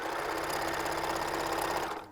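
Sewing machine running a wide zigzag stitch on pants, a continuous rapid mechanical whir with a fast regular needle pulse, close and steady, slowing and stopping at the end.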